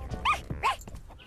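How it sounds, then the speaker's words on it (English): Cartoon dog giving two short, high whimpering yelps in quick succession, close and fairly clear, followed by softer whining murmurs. "Your dog is in good hands."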